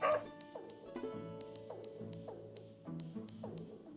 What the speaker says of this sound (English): That dog is adorable.